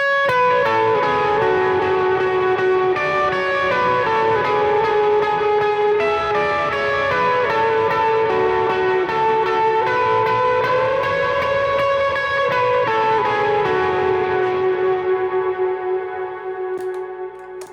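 Electric guitar with a good amount of overdrive plus reverb and delay, playing sustained ringing chords and melodic lines for a worship song, loud and continuous with echoing tails that fade toward the end.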